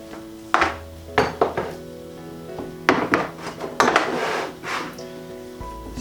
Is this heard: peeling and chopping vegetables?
yes